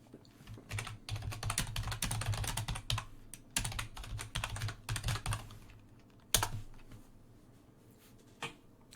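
Someone types a name on a computer keyboard, bursts of quick close clicking keystrokes with short pauses between, then a couple of isolated taps near the end.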